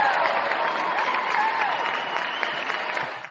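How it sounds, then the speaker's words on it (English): Sustained audience applause from a fan call-in show gathering on a Sunday afternoon, a dense, steady wash of clapping that holds evenly throughout before cutting off at the end. "Give yourself a round of applause"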